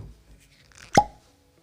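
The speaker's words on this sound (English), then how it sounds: "Let's get this cork pop." A cork pops out of a whiskey bottle in one sharp, close plop, alone in a quiet room with faint background before and after.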